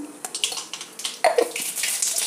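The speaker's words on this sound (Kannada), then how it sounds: "ಎಣ್ಣೆ ಕಾದಿದೆ ಸಾಸಿವೆ ಹಾಕ್ಕೊಳ್ತೀನಿ" Mustard seeds sputtering in hot oil in a pan, a close burst of crackling pops and hissing spatter over about two seconds.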